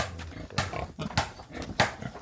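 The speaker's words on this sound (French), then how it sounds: "On a des porcs." Pigs in a farm pen grunt and snort in several rough bursts, fairly close, with shuffling noise between calls and no voices.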